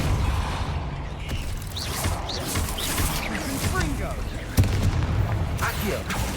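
Confringo blasting spells in Hogwarts Legacy burst in a rapid series of booms and crashes during a hectic fight, with one sharper blast near the end and a voice talking throughout.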